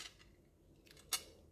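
Scissors snip through a strip of sticky tape while a craft kit is being wrapped, giving one sharp, close cut that stands alone after a couple of soft rustles.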